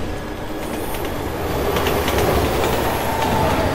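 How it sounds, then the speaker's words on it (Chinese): A train rumbles past in the video game Resident Evil 6, a loud continuous roar with rhythmic clattering that swells toward the end, with no voices over it. "有啲火車，有啲火車嚟。"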